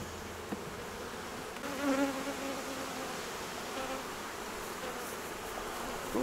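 Dark honey bees hum and drone around a hive during a swarm transfer from a trap, a close, continuous buzzing with individual bees whirring past near the microphone.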